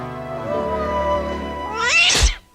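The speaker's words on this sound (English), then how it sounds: "Cat versus carpet." A cat in a TV commercial gives a drawn-out, wavering meow that rises into a loud, harsh yowl before cutting off abruptly, heard alone and up close.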